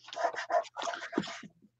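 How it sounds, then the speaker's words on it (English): A dog pants nearby in quick, breathy bursts, a handful of rapid puffs that fade out at the end, with no talk over them. "Poor doggy."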